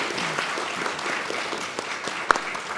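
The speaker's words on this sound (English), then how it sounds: "So please join me to applaud the panelists for this session." Audience applauding panelists at a Caribbean development report launch event, a steady patter of many hands clapping throughout with one sharper clap standing out near the end.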